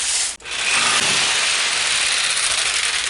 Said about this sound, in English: jigsaw makes short work out of it